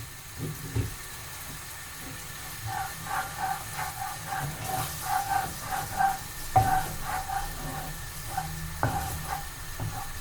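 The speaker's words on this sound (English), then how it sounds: "About 1 heaped tablespoon fry in the coconut." Thai massaman curry paste frying in split coconut milk, a steady close sizzle with bubbling pops and scraping stirs that grow busier midway, no talking.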